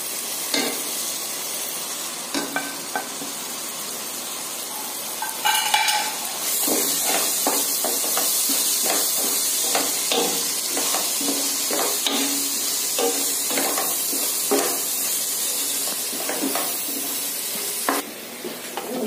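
Spices for chole tipped into a hot pan and stirred, giving a continuous loud sizzle and frying hiss with repeated scraping strokes of a spoon against the pan, close up and without talk.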